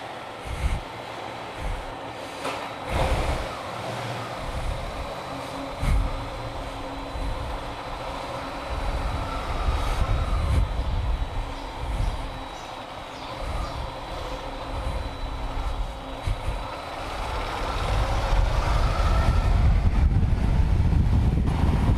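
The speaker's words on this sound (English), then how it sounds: "I'm riding this vehicle after such a long time" Riding a motor vehicle on the road, with rushing wind buffeting the microphone, a rumbling low drone that swells and surges, and a louder, steadier roar toward the end, with no talking.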